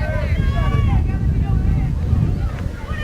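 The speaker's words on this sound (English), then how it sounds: "Windy day today." Gusting wind at an outdoor baseball game buffets the microphone in a loud, low rumble, with a voice talking over it.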